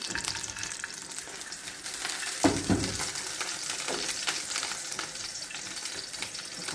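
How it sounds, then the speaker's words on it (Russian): Vegetables sautéing in an overheated skillet as a base for pea soup, a steady close sizzle with brief stirring clatter in the middle, no talking. "Сейчас будем делать зажарку."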